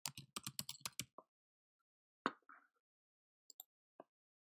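Computer keyboard keys pressed in a quick burst of close, crisp clicks, followed after a pause by a few isolated taps, with no talking.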